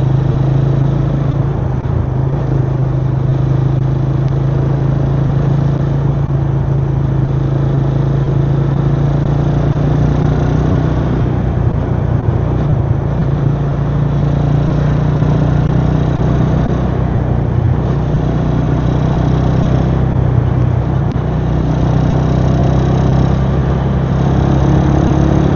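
A Yamaha LC135 motorcycle engine runs at a steady idle, loud and close, with a constant low throbbing drone that stays even throughout, with no voices over it.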